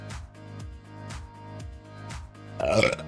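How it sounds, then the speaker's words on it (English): A burp after drinking Coke, a short raspy belch bursting out near the end over steady background music. "Oh, we've got some Coke burps going today"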